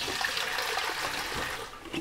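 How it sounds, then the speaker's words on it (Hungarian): Five liters of warm water pours steadily into a home-brewing fermenter tank along with Chemipro Oxi sanitizer, a continuous rushing, splashing stream with no voices. "ezt csak simán beleöntöm a tartályba, meg 5 liter meleg vizet"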